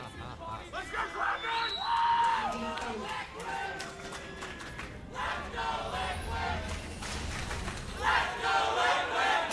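An esports arena crowd at a League of Legends match between Cloud9 and Team Liquid roars and chants in rising, falling waves, while casters talk over the noise.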